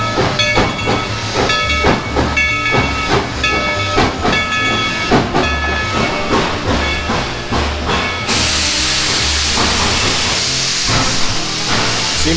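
A large steam locomotive at a theme park at Christmas, chuffing rhythmically with loud hissing steam, then a sustained burst of venting steam near the end, close and loud.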